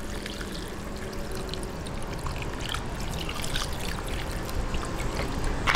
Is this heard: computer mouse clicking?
no